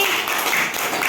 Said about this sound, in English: All of you clap for Inivardhini.